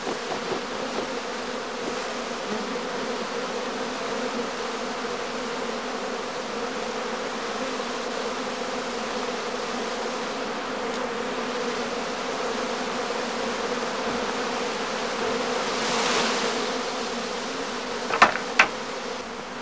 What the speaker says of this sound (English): the bees gradually calm down.